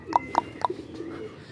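Highflyer pigeons out for training, with three short, evenly spaced calls near the start followed by quieter low coos, fairly close against a faint background murmur.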